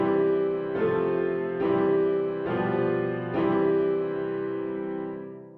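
Short musical example in a major key: a sustained harmonic chord re-struck about four times at an even pace, ringing together and fading out at the end, with no talking.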